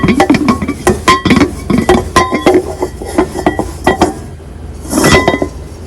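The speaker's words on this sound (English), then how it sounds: "now we're going to wipe it out to see if it sticks or not" A seasoned pan or wok being wiped out after a stick test, with a run of close, bright metallic clinks and scrapes, then a brief rougher wiping swish near the end.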